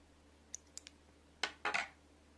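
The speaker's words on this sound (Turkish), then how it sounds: "Şimdi ipimi keseceğim." Thread snipped with scissors while making needle lace, a few small light clicks followed by two sharper close cuts, quiet and without talk.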